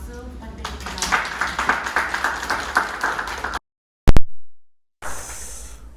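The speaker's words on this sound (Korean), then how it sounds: "박수 부탁드립니다." A church youth retreat congregation claps to welcome a pastor with a burst of fairly close, rhythmic applause. It is followed by silence and then a brief clunk.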